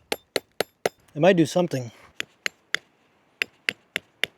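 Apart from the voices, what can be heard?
rock hammering a tent stake into the ground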